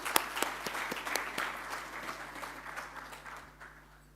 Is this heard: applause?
yes